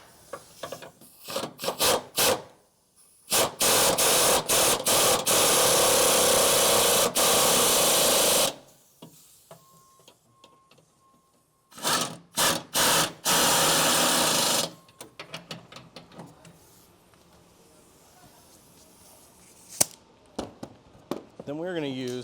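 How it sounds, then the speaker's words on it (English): Power tool bursts while tightening half-inch bolts on Ford F-150 Torklift Apex anchors, with two long loud whirring runs and several short staccato pulses, separated by pauses and some quieter handling noise. "Then we can finish with tightening the last 2 half-inch bolts."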